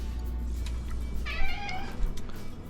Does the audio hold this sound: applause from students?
no